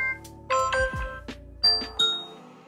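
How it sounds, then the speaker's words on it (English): A multi-tone electronic doorbell chime from an Echo Show 5 plays a short melodic sequence of bright notes, fairly close and clear, with no talking. "This is a setting that alerts you when someone presses the doorbell."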